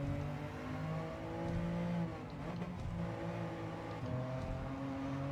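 A race car engine revving hard at speed, its pitch climbing steadily, dropping sharply at a gear change, then climbing again, loud and continuous with no voices.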